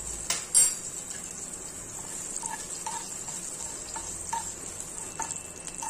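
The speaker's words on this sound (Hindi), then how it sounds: "ये जीरा और सौंफ थोड़ा सा भुन गया है" Cumin seeds, fennel and asafoetida crackle in hot oil with a steady high sizzle, broken by a few light metal taps of a spoon against the pan.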